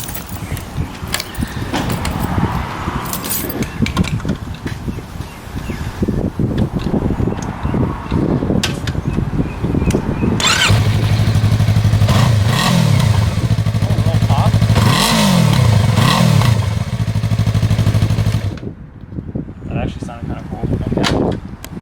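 Loud 2021 Yamaha MT-03 engine with a Leo Vince slip-on exhaust and the catalytic converter removed revs hard with a harsh, raw exhaust roar, rising and falling in bursts, while people talk nearby.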